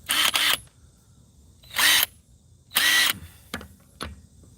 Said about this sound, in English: you should be able to do any car or truck with your Bauer with this impact wrench